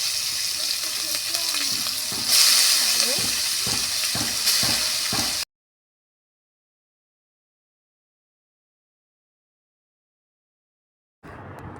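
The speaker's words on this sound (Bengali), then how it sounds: "আলুগুলোকে ভালোভাবে নেড়ে চেড়ে দেব" Potatoes with chopped onion and green chilli and five-spice seeds stirred and fried in leftover fish-frying oil, a loud steady sizzle with spoon scrapes for about five seconds, then silence, then the sizzle briefly returns at the end.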